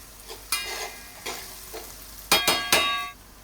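Sliced onions frying with sugar and salt in a pan for a Bengali mutton keema, a steady close sizzle broken by several sharp stirring scrapes and clinks of a utensil against the pan, the loudest three near the end.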